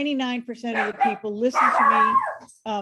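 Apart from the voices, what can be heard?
dog barking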